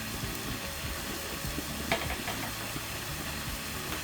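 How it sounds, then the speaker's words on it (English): Water at a rolling boil in a cooking pot gives off a steady, dense hiss and bubbling rumble, close and continuous throughout. "This is boiling water."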